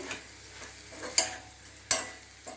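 A spoon stirs chili powder through a pan of sweet bitter gourd curry, with several distinct scraping strokes against the pan over a low sizzle, no speech.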